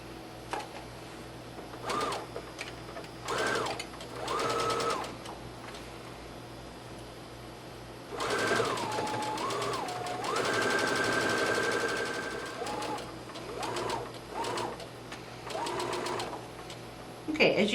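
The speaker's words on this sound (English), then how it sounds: "What I'm going to do is straight stitch all the way around this waistband, right along the edge of this fold." A sewing machine straight stitching around a fabric waistband: short bursts of whirring and rapid ticking, then a longer continuous run in the middle, close and moderately loud, with a voice speaking between bursts.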